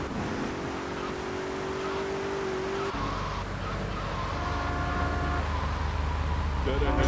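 A V8 car engine drones in the video game GTA 3, a continuous steady hum with tonal shifts and a change partway through, as someone talks over the gameplay.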